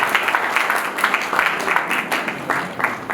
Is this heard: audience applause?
yes